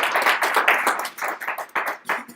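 Audience clapping at an Angular developer conference talk, a short burst of lively, uneven handclaps from a small crowd, fairly close and with no voices over it.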